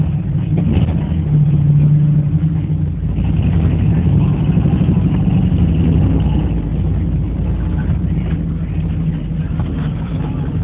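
A 4.3L V6 pickup engine with a four-speed, running rough and leaking gas, rumbles loudly up close with a rising rev early on, then settles into a steady low idle drone.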